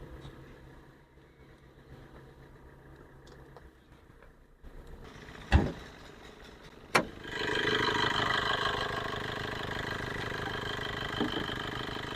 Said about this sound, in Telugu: ఇంజన్ బీటింగ్ చూడండి